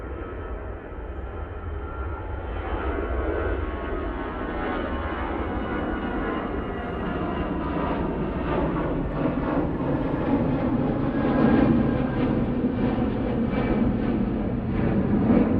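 An EasyJet airliner rolls for takeoff at Manchester Airport, a broad, continuous engine rumble at moderate distance that builds slowly and stays steady throughout.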